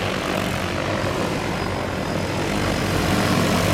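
Large agricultural spray drone flying itself over a crop while spraying five gallons per acre, its rotors a constant loud droning whir that holds steady throughout with no talk.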